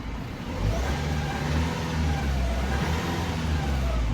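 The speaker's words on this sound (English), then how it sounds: "she revs up again, absolutely spot on, no problems there." A Vauxhall Vivaro van's 1.9 diesel engine, after a no-rev fault fix, is revved hard from idle and held at a steady, loud drone up close, with no talking.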